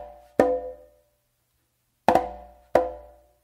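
Three sharp conga close slaps ring out alone, one near the start and then two more about two-thirds of a second apart, each a bright crack with a quick decay on the way toward the tumba in a bomba rhythm.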